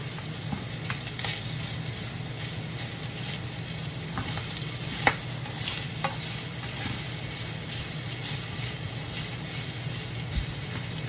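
Onions sizzling in a pan as they are sautéed for homemade pizza, a steady close frying hiss broken by occasional scrapes and clicks from stirring.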